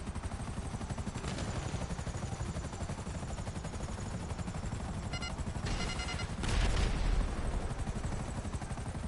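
Sustained bursts of rapid automatic gunfire in the video game GTA, with a steady noisy rumble underneath, a louder cluster of shots near the end.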